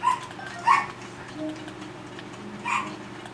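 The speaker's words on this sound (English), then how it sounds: "I hate when the dogs bark." Dogs let out a couple of quick barks close together at the start, then a lull with low background noise before one more bark near the end.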